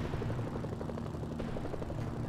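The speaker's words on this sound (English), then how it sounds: "We are saving so much time with this helicopter right now." A helicopter's rotor thrums steadily in the Mercenaries: Playground of Destruction video game, a continuous low pulsing chop at a constant, fairly loud level with no talking over it.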